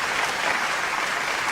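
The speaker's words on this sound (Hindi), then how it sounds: "एक बार जोरदार तालियां बजा के" Dense audience applause at a mushaira poetry gathering, a loud continuous wash of many hands clapping at once that holds steady for the whole moment, with no talk over it.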